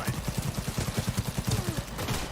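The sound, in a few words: smart gun firing bullets in a video game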